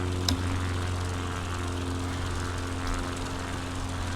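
A slow-flying plane passes over a small seaside city in the UK, a steady, continuous engine and propeller drone with a low hum, fairly even in loudness and heard alone without talk.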